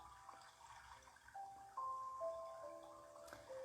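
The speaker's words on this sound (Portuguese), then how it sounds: "se conectar com o som, com essa música relaxante, esse barulho de água" Gentle water trickling and dripping from a soft tap-like flow, low and steady beneath quiet relaxing meditation music with sustained tones.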